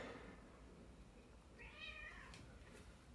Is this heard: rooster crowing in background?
no